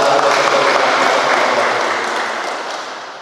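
A welcoming crowd applauds a badminton gold medallist at a homecoming reception, a dense steady wash of clapping that fades slightly toward the end.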